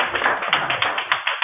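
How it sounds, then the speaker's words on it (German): Steady rapid clapping from a crowd of people, a dense patter of hand claps with a few sharper accents, moderately loud and close, with no voices. "warum klatschen denn die Leute bei Ihnen?"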